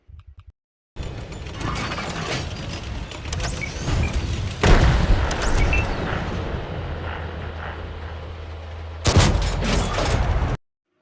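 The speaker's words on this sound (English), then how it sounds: "Okay, so right there he just fired," Tank gunfire in World of Tanks arrives as sudden booming shots among steady mechanical clanks and whirring, with a sharp blast midway and another heavy burst near the end before abrupt silence.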